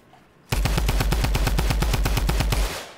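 Rapid automatic gunfire from a shooter video game, a loud, steady burst of about twenty evenly spaced shots lasting two seconds after a quiet start, with no talking.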